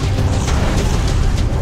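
An explosion in the video game Kraven Manor sounds as a dense, loud, continuous rumbling roar with a heavy low end that holds steady throughout, with no voices.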